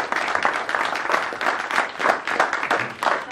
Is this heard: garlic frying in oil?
no